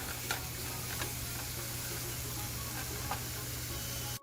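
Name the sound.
mushrooms, olives and vegetables stir frying in a pan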